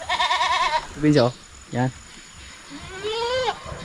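Goats, including a large male, bleat several times in quick wavering cries, near and clear, while someone speaks over the farm yard noise.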